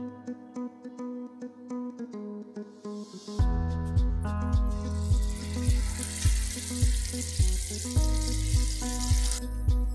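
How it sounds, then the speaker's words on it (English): Fish marinated in ginger garlic paste and lemon juice fries in oil in a pan. A hissing sizzle starts about a third of the way through and carries on under loud rhythmic background music. "Put some oil on the pan and let's fry our fish."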